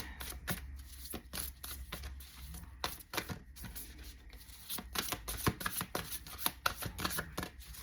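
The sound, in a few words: tarot cards being shuffled and drawn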